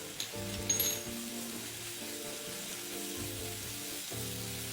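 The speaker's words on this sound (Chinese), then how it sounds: "炉重开，低火拌一拌炒" Ingredients stir-fried over low heat in a wok with oyster sauce and salt, giving a steady soft sizzle and a few light early scrapes and clinks from stirring.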